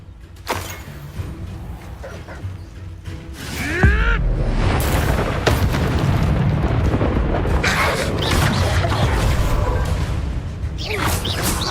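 A Confringo blast spell in Hogwarts Legacy cracks into a loud, rumbling explosion partway through, followed by sustained roaring booms and crashing debris. A few earlier thumps and whooshes are also heard, and brief voices rise over the din.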